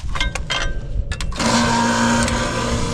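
A fuel trailer being filled in a farming video game. A few knocks and clicks lead into a steady, loud mechanical pumping hum with a faint whine that runs on evenly, with no talking.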